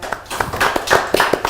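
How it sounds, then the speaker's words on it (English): A short run of a few hand claps from the audience at an evening talk show on African monetary sovereignty, the claps separate and close, with faint murmuring between them. "Can you please clap for him,"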